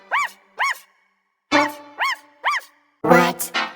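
A dog barks in quick pairs and triplets, seven loud, close, clipped barks with short pauses between the groups, alone with no other sound.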